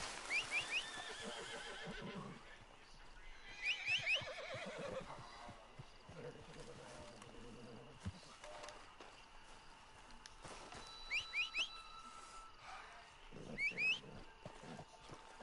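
Horse in Red Dead Redemption 2 neighing in several sharp whinnies spread across the stretch, with clip-clopping hooves and footsteps in between, fairly close and loud against a low game background.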